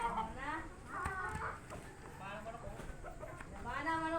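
Chickens cluck and squawk close by in a busy farmyard, their calls overlapping with people talking.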